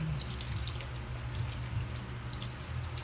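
Water is poured a little at a time into a pan of cooking chicken, a faint, steady liquid trickle and drip with soft clinks, with no talk over it.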